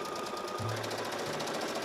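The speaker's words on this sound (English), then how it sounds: "I'm going to sew all along this edge" A sewing machine stitches along the edge of a fabric slip dress, giving a fast, even mechanical buzz and rattle that runs steadily and close, with no voices.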